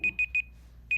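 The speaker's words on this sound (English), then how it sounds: "Yes, I heard that timer." A kitchen timer goes off while an apple tart bakes, sounding rapid high-pitched electronic beeps in three quick bursts, a brief pause, then another burst, loud and clear over a quiet room.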